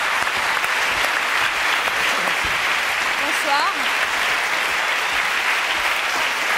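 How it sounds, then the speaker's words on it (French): A studio audience at a French TV show applauds and cheers in a dense, sustained wave of clapping, loud and continuous, as a voice speaks over it. "applaudissements de la foule en délire"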